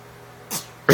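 A baby's fake sneeze: a short breathy puff followed by a louder, sharper burst at the end, close and alone.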